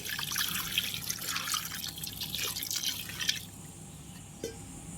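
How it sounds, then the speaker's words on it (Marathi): Water splashes and trickles steadily into a pressure cooker holding cut pieces of young jackfruit for a vegetable dish. The pouring stops about two thirds through, leaving a quieter tail with one small drip near the end. "त्यात थोडं पाणी ओतायचं"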